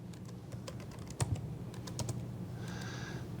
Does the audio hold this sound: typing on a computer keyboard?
yes